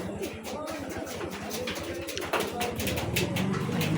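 Racing pigeons coo close by and flutter down onto a roof during a training flight, soft repeated coos over steady outdoor ambience, with a louder landing bump midway and someone talking briefly.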